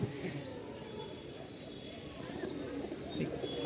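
Giribaz pigeons at a Dhaka pigeon market, soft cooing and occasional chirps heard close by beneath someone talking and a busy market murmur.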